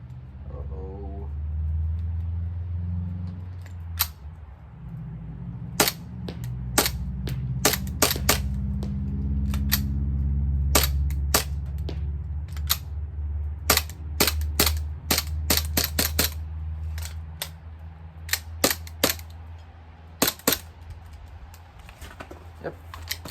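A CO2-powered USW A1 air pistol fires a long series of sharp shots outdoors in cold weather, single cracks and quick doubles spread irregularly over a low steady background rumble.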